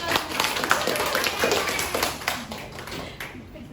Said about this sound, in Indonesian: beri tepuk tangan kepada anak